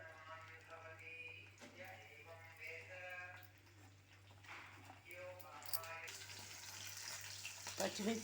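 Green chillies fry in hot oil for a tindora and tomato chutney, a soft sizzle running beneath a voice speaking throughout, with a brighter burst of hissing near the end.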